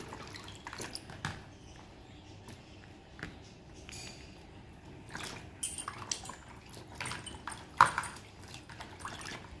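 Vegetables such as beans and carrots are washed in water in a home kitchen. Soft drips and splashes come in scattered bursts, with a few light knocks of dishes. Everything is close and quiet, and no one talks.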